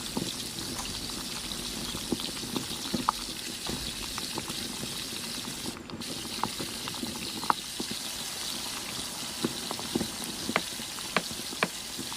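Chicken wings in an oyster sauce, honey and water glaze cook over medium heat, bubbling and sizzling steadily with scattered sharp pops, close and alone.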